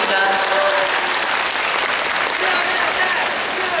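An audience applauds during the open talk for the film Exit at the Busan International Film Festival, steady dense clapping from a crowd held at an even level with no pause throughout.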